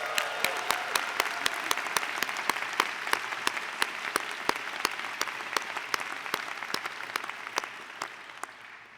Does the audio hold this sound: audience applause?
yes